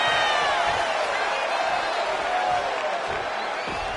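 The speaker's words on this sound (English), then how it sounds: "The crowd is behind Tegan, and she knows it" A wrestling arena crowd in the WWE 2K25 video game roars and cheers in a steady, loud, dense wash of noise that fills the whole stretch without pause.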